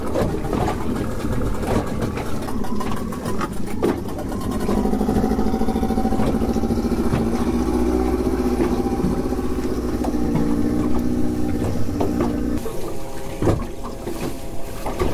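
A fishing boat's engine runs steadily throughout, a loud low rumble with water sloshing, the drone deepening slightly midway.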